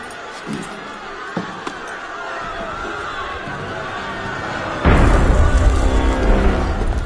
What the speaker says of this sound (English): That was cannon fire.